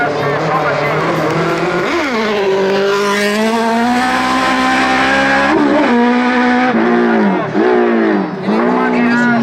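4x4 autocross race cars at a final in Carballo, loud engines revving and rising in pitch through the gears, with passing cars and brief dips between runs, close and continuous, with a commentator talking over them.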